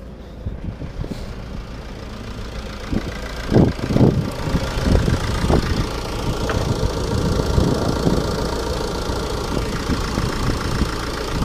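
A 2006 Ford Focus C-MAX 1.8 TDCi 115 diesel starts on the key after brief glow-plug preheating and settles into a steady, clattering idle, loud and close throughout.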